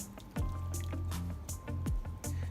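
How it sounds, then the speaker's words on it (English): Pasta sauce and canned tomatoes poured into a pot on a stove, giving wet glugging plops and splats, a few thick liquid drops and slops in close, moderately quiet succession. "Get your pasta sauce and your tomatoes and pour both of them"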